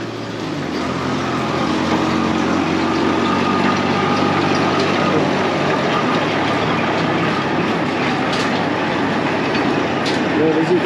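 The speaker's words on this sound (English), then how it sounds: "We have a train that goes around the lake as well." A small tourist train runs around a lake, its steady rumble and rhythmic clickety-clack of wheels continuing close by, loud and unbroken, with faint background noise.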